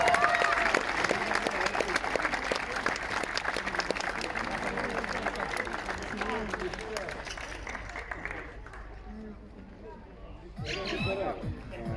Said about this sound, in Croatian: Molim jedan veliki aplauz.